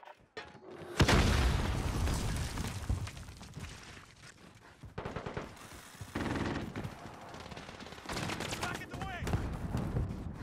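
A mine explodes in the video game Call of Duty: Modern Warfare with a loud boom, then rumbling gunfire and further blasts continue, with a voice speaking at times.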